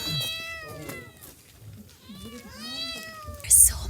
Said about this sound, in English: There's so many cats.